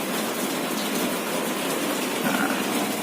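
Rain falls steadily outdoors around a canary breeding aviary, a continuous even hiss of drops on surfaces with no voices and no breaks.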